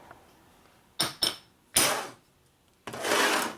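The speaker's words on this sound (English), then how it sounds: "I'm whacking it pretty good. You can't see me whacking on that." Hammer blows strike a stuck part on a 1977 Harley-Davidson Sportster Ironhead 1000cc motor during a rebuild, giving sharp, loud, close metallic whacks: two quick hits, a third after a pause, then a longer grinding impact, with no talking.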